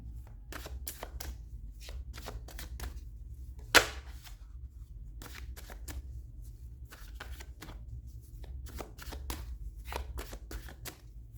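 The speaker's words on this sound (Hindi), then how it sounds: "आपके सामने कार्ड शफल करूँगी मैं" Tarot reading cards are shuffled close up in a steady run of crisp riffling flicks and soft slaps, with one sharp snap early on, over a low constant hum and no voices.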